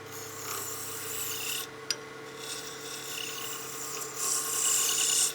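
Negative rake scraper cutting a wooden honeycomb blank spinning on a lathe, a continuous close raspy scraping with one sharp tick near the middle and a brighter, louder cut at the end.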